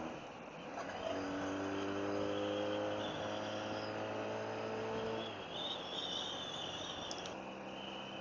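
A Honda V30 Magna 500cc V-4 motorcycle engine hums steadily while riding, a smooth continuous drone with a pitch shift partway through, some wind noise and a faint electronic beep near the end, no talk.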